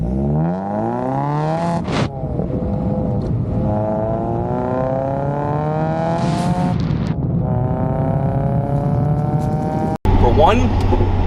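A tuned Mazda Miata ND accelerates through several gears, its engine note climbing loudly and dropping at each shift. Near the end comes a sharp cut and a brief different burst of sound.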